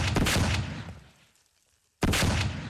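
Bursts of gunfire in sharp loud volleys, first a cluster of rapid shots that fades into near silence, then another abrupt burst, close and forceful.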